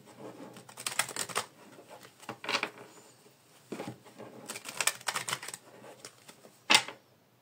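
A deck of Lenormand cards being cut and shuffled, giving bursts of quick papery riffling and tapping clicks that come and go over several seconds, fairly close and quiet, with no talking.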